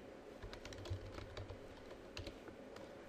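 Fast typing on a computer keyboard while building a Dreamweaver CS5 web page: quick, irregular clusters of light key clicks over a low steady hum, with no talking.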